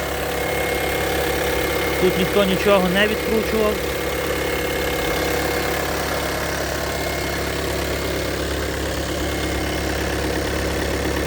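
Volkswagen Touran 2.0 TDI diesel with DSG and low mileage idles with a steady, even engine hum and rattle throughout, while someone talks over it close by.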